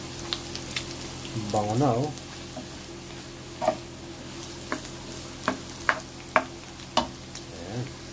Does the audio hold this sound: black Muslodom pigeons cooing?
no